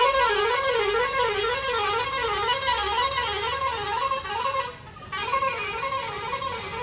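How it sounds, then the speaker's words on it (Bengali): A vehicle horn blares on a busy Agra market street, a long, warbling, wavering honk that sounds almost continuously with a brief break, over a low traffic rumble. "এখানে হর্নগুলো কেমন দেখছেন?"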